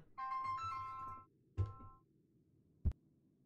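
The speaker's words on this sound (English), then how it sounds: "I was receiving a phone call." A short electronic phone ringtone melody plays in Assassin's Creed III Remastered gameplay, then a briefer burst of it after a pause, followed by a single sharp thump; no talking.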